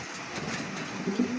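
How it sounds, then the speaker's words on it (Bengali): Three caged pigeons of different colours, kept for sale, coo softly and close by over a low, steady background hum, with a slightly louder coo near the end. "এখানে 3 কালারের 3টা কবুতর আছে"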